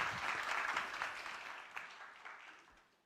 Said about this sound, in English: A big warm applause.